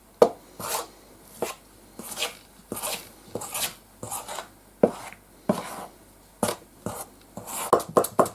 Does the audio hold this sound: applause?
no